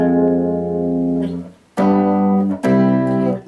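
A I-minor IV-V-I progression with a borrowed minor chord, played as held harmonic chords, four loud sustained chords changing at distinct attacks, close and without speech.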